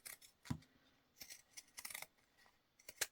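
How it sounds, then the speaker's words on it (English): Pinking shears snip notches into fabric around a curve during sewing, giving a few short, crisp cutting crunches spread over a few seconds with quiet pauses between, fairly close and alone. "Oh, I see my pinking shears."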